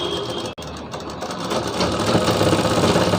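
A sewing machine runs steadily as it stitches folded fabric, a close, continuous rapid mechanical whirring and chattering with one brief pause near the start.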